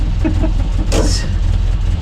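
A Land Rover's engine rumbles steadily up close as it pulls away, a low continuous drone with a brief rattling burst near the middle.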